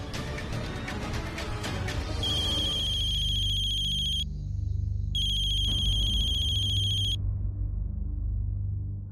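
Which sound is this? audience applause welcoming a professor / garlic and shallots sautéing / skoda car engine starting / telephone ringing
telephone ringing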